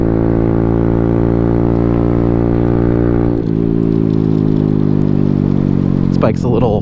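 Honda Grom motorcycle engine held at full throttle, a loud steady high-revving drone with a brief dip midway before climbing again, close to the listener, with a short clatter near the end.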